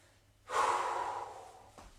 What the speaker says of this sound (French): Pensez à bien respirer.